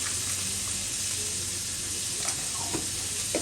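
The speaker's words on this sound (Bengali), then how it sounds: "নুন দেওয়ার পরে এখানে এবার কষিয়ে নেব" Tomatoes and green chilli sauté in a pan after salting, giving a steady, close sizzle and hiss throughout with a few faint stirring clicks and no talking.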